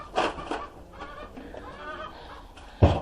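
A hen clucks in short, scattered bursts, with a louder cluck close by near the end.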